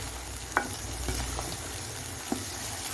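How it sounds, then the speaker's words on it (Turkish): Green peppers are stirred in a pot while making a pickle, with a soft continuous sizzle-like hiss and a couple of sharp utensil clinks against the pot. "Evet bunu bu şekilde karıştırıyorum arkadaşlar."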